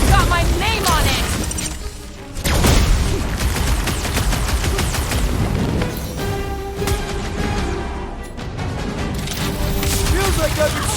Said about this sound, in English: Feels like I've been shooting that big boss for hours!